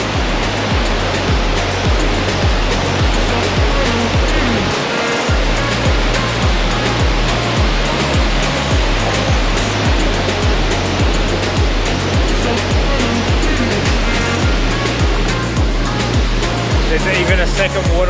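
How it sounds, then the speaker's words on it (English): Flooded waterfall at Cedar Creek on Mt Tamborine after days of heavy rain, a loud, constant rushing roar of water close by that runs unbroken for the whole stretch, with a deep rumbling undertone. "I've never seen so much water in these waterfalls."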